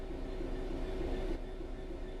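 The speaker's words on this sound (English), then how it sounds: "Bring this train to a complete stop by holding the brake control in the apply state" A train brakes to a stop in Train Sim World 3, a loud continuous rail rumble with a steady metallic whine layered on top, heard alone without any voice.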